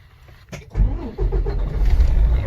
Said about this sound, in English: Okay, so we're gonna turn on the engine